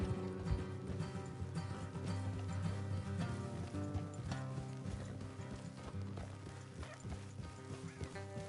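Horses galloping in the Red Dead Redemption video game, steady clip-clop hoofbeats running continuously at a moderate, even level with a busy musical score layered over them.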